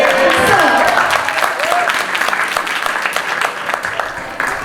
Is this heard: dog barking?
no